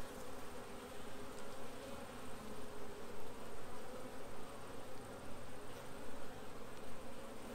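Honey bees crawl over a hive frame with queen cells, their soft, steady buzzing close by and fairly faint, alone without voices.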